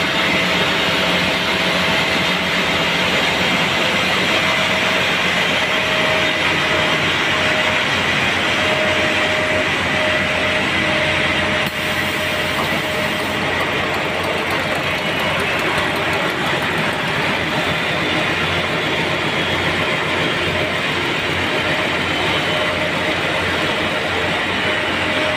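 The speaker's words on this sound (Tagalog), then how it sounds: "So habang wina-warm up natin yung generator natin, pinapainit pa natin" A 750-kilowatt generator engine warming up in a switchboard room drones loudly and steadily throughout, with a constant mechanical roar and a faint tonal hum.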